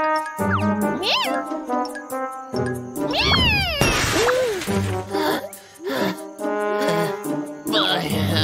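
A cartoon cat lets out several loud, close meows and squeals, some rising and some falling, mixed with jingles and sound effects from a football cartoon.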